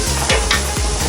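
A 5 cm thick, 1.52 kg tomahawk steak sears on a Weber gas grill near 500 degrees, giving a loud, continuous sizzle broken by a few soft low thumps and crackling bursts, with no voices.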